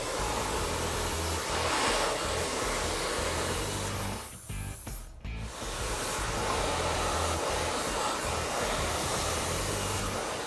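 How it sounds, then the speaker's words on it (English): A hair dryer blows steadily and loudly on wet hair being styled with a large round brush, a constant close whoosh that briefly dips and muffles midway, with no talking. "I'm gonna go through with a large round brush and I'm just gonna blow dry that in"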